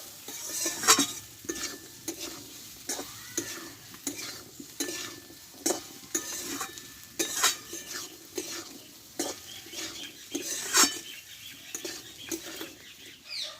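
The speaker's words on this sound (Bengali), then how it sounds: "লেবুর রসটা দিয়ে আমি কিছুক্ষণ নাড়াচাড়া করে নেব" Pea and potato curry being stirred in a pan after lemon juice goes in, a soft sizzle underneath repeated rhythmic spatula scrapes and knocks against the metal, close and unvoiced.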